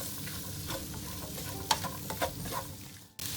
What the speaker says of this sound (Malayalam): ഞാൻ പാൻ ചൂടാക്കി എണ്ണ ഒഴിച്ച് 3 സവാള ഇട്ട് നന്നായി വഴറ്റുക.